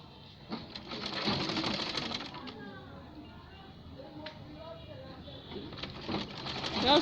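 A sewing machine stitches glove fabric, its motor running in uneven bursts with fine clicking, while a person talks over it and birds coo faintly in the background.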